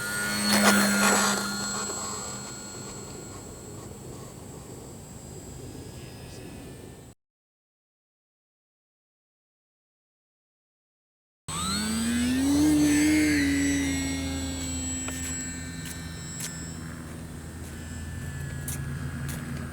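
An E-Flite P-51D Mustang 1.0m electric RC model airplane flies past at speed, its motor whine rising and falling in pitch. A silent gap splits the clip, then the plane makes a second loud, close pass.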